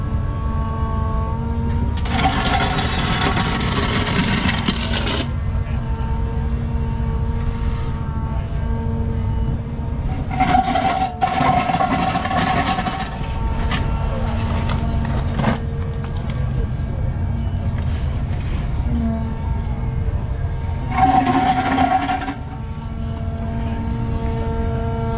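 An all-electric Volvo ECR25 mini excavator digs, its steady motor and hydraulic whine holding constant while louder bursts of digging effort rise and fall three times.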